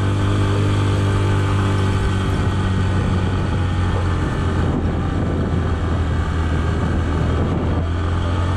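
Motorcycle engine in first gear laboring up a steep mountain road, a steady loud drone with strong low harmonic tones throughout, close and continuous with no voices.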